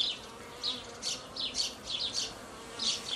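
Honeybees on a hive frame buzz close by in repeated swelling bursts, a busy hum rising and falling every half second or so, with no talking.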